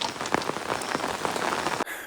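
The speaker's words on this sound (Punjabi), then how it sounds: "ਮੀਂਹ ਲੱਗਾ ਹੀ ਬੜਾ ਹੀ" Heavy rain in Hoshiarpur drums hard and steadily on a nearby surface, dense pattering with individual splashes, cutting off abruptly near the end.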